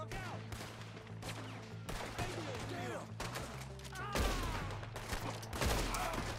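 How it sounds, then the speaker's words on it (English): Rifle gunfire in Red Dead Redemption 2: a string of sharp shots fired at close range cracks over constant in-game ambience and low droning hum, with a voice talking in places. "I shouldn't be using a rifle from so close."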